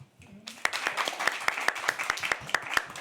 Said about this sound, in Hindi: एक बार जोरदार ताली आप सभी के लिए